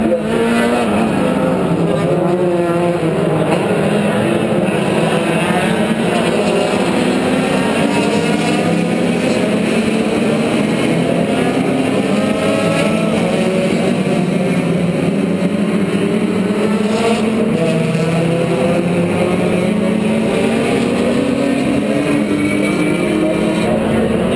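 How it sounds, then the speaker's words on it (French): Touring race cars at a Canadian Touring Car Championship race roar continuously, several engines overlapping with rising and falling revs, loud and sustained throughout. "c'est parti pour cette course du Canadian Touring Car Championship"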